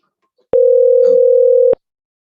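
A single steady electronic tone sounds for just over a second as a phone call is placed from a PC softphone, clean and loud, starting and stopping abruptly in near silence.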